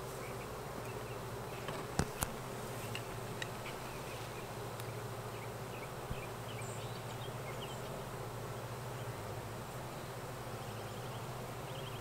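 Angry honeybees swarm close around a beekeeper's head at an open hive, giving a continuous buzzing drone with individual bees passing near, plus a couple of sharp knocks early on.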